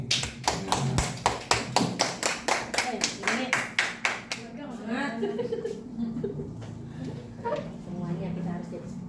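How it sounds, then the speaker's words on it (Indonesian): Group of people clapping hands at a school workshop on positive culture, about eighteen loud rhythmic claps in unison, then chatter and chuckles as the clapping stops. "Tepuk tangan buat Bu Dini."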